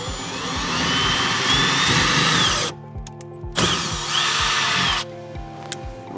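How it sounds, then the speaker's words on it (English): A power drill bores pilot holes through a plastic panel in a Jeep XJ during a vault installation, whining in two close, loud bursts separated by a short pause, each ending abruptly. "we're gonna pilot hole these through the plastic"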